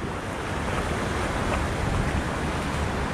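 Waves break and wash continuously at Leme beach in Rio de Janeiro on a morning shoreline, a broad steady roar of surf with wind noise over the microphone and no talking.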